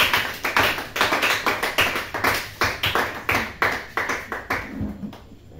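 A church congregation claps in steady, loud rhythmic unison to acclaim Jesus Christ, about two claps per second, the beat continuing for several seconds before tapering off at the end.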